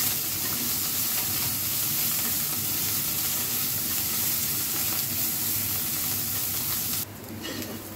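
Dried shrimp frying in a pan with turmeric powder and salt make a loud, continuous close sizzle with stirring scrapes throughout, cutting off sharply near the end to a quieter tail.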